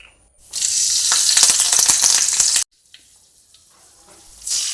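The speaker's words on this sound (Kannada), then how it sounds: "ಕರಿಬೇವು ಫ್ರೈ ಆಗುವಾಗ" Curry leaves crackle and sizzle loudly in hot coconut oil for about two seconds, then cut off abruptly; a fainter sizzle returns at the end.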